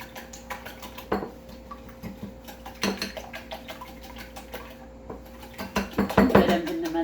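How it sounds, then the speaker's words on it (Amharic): Eggs seasoned with pepper and salt are beaten in a bowl for a quick tortilla breakfast, giving a run of light, irregular clinks and taps of utensil on dish, with a few sharper strikes and a busier flurry near the end. "መጀመሪያ ትንሽ ቁንዶ በርበሬ፣ ጨው መጥነን ያስቀመጥናትን አድርገን እንመታለን።"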